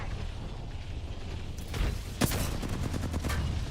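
A grenade goes off in a ranked shooter video game with a sharp, loud blast partway through, surrounded by bursts of distant gunfire and rumbling battle noise.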